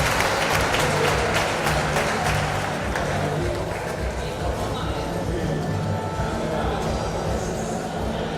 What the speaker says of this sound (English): Let's give one more big applause to the national team of Spain